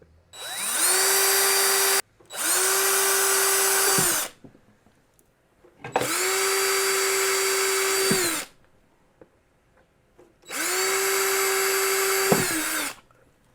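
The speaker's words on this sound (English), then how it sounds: "Now I'm going to pre-drill some holes in here." A power drill pre-drills holes into wood for a small camera shelf, running in four loud, steady bursts of about two seconds each, separated by short pauses.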